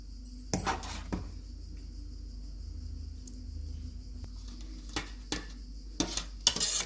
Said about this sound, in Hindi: अब दोबारा पास्ता डालेंगे।